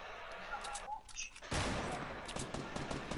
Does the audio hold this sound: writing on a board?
no